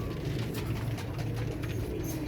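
Teddy pigeons coo softly in a loft, a low, steady, rolling murmur that runs continuously under faint background noise, with no voices.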